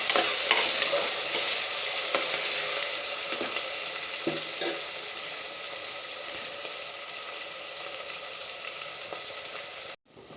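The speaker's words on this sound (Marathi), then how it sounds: "एक टॅमॅटो बारीक चिरलाय. परतून घ्यायचा." Finely chopped tomato sautéing in a pan for masoor rice, a steady close sizzle with scattered stirring scrapes running throughout, no talking, then cutting off abruptly near the end.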